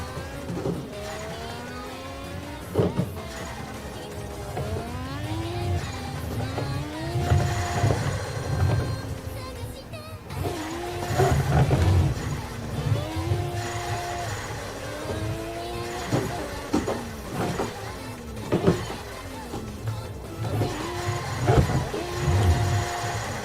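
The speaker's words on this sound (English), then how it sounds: "Ooh, love the turbo. Sounds pretty cool." A turbocharged drift car in the racing sim Assetto Corsa revs hard with rising and falling engine pitch, tires squealing and skidding between repeated bursts of acceleration, loud and continuous.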